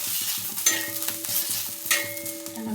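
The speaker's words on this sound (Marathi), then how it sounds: "मिरच्या पण छान भाजून घेतल्यात आपण आता" Green chilies roast in hot oil in a pan with a steady close sizzle, regular clinks and scrapes of a stirring utensil repeating over it, and no talking.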